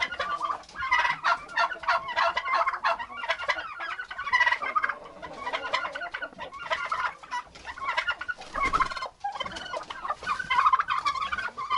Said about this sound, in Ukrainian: О, дорослий індик відганяє молодого, якого я з того вольєра пригнала.